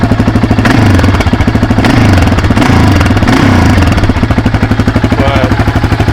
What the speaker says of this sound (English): As you guys can tell, it's a little bit louder in the exhaust.